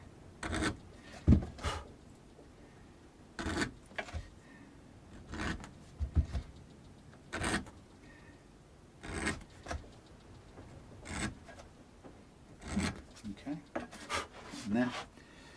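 A tool scrapes out the body cavity of a partscaster guitar in a series of separate rasping strokes, close and fairly quiet, repeating irregularly with short pauses between them.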